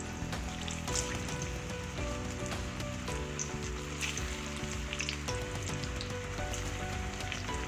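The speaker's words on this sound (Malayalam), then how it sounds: "ഞാനൊരു കടായിൽ എണ്ണ വെച്ചിട്ടുണ്ട് ഇത് വറുത്തെടുക്കാൻ" A kadai of sweet potato pieces in a little oil sizzles steadily over low heat, crackling and popping like rain on a surface throughout, with occasional stirring scrapes and no talk.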